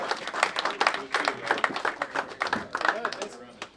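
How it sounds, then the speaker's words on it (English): A comedy club audience claps for a comedian, with dense, lively applause close by and voices mixed in over it. "Give this guy, Joe Martelli, a big round of applause."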